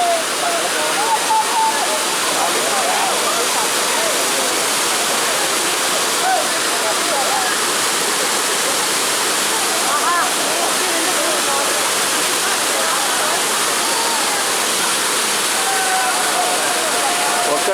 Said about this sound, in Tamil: ஒக்கேனக்கல்னாவே அருவி,